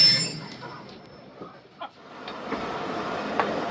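The 47Up Rehman Baba train departs Bahawalpur railway station at night with a close, steady rumble and rattle of railcars, with a few faint knocks on top.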